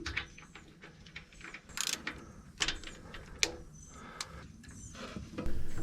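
A wrench loosens a jam nut and turns a valve lash adjustment screw on an excavator engine. It gives close, faint metallic clicks and ratcheting ticks at an irregular pace, with no talk.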